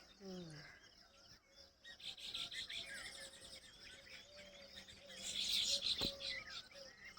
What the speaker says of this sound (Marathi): पिवळ्या कलरच्या दिसतात चिमण्या